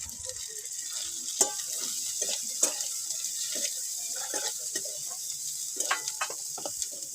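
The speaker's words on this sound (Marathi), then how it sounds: "कांदा चांगला तळून घेते." Onion frying in a pan over a wood-fired stove, a steady soft sizzle with scattered crackles and pops, fairly quiet and close, with no talking.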